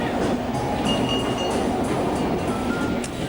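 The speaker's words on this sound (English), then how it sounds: "The clickety-clack of the tracks" A steam train rumbles and rattles along the rails in a constant roar, with a faint whistle-like tone and a few metallic squeals over the clatter.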